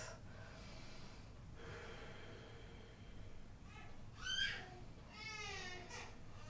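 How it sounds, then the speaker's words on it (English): Deep breaths during a yoga class, a few slow, audible inhales and exhales at close range with soft, airy texture, quiet between breaths and slightly louder toward the end. "So just take a couple nice deep breaths."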